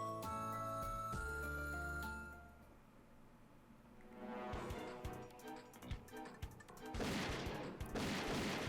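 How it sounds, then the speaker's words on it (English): Rapid bursts of gunfire from Hyperdimension Neptunia on PS3 crackle after a stretch of tonal game sounds, sharp shots firing in quick clusters. "Real gunshot sounds?"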